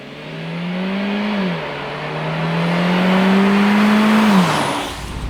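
A 2019 Peugeot 508 GT front-wheel-drive sedan driving, its engine note heard from inside as a steady hum that rises through a gear, dips and climbs again, fairly loud with no talk.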